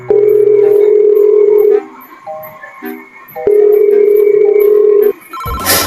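Ringback tones on an outgoing phone call, two long steady electronic rings separated by a pause, loud and close, followed by a brief burst of noise at the end.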